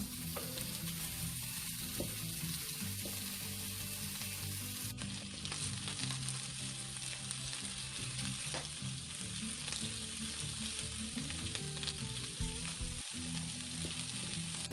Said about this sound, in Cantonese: 先煎一煎個豬肉，逼出個油分